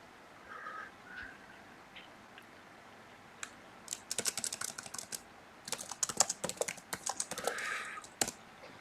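Typing on a computer keyboard during a chanting session, heard as bursts of quick, close clicking keystrokes after a quiet stretch, alone with no speech.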